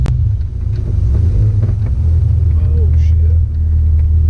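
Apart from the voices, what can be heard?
Toyota AE86 driven around the block after coilover install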